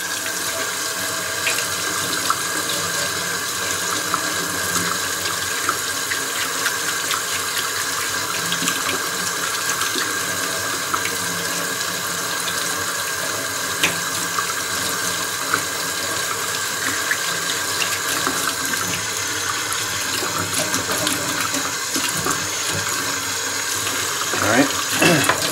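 Tap water runs steadily into a sink as a piece of copper gear is rinsed under it, a continuous splashing hiss with small clinks and scrapes scattered throughout.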